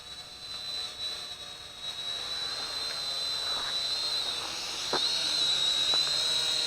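A small toy quadcopter drone hovers in place, its motors producing a steady, thin high-pitched whine that grows slightly louder over a few seconds, with a few faint clicks in the background.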